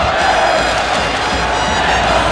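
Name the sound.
high school basketball crowd cheering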